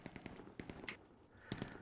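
Rapid bursts of gunfire in the World War II shooter Hell Let Loose, a quick run of sharp shots followed by a couple of louder cracks, fairly distant and faint with no talk.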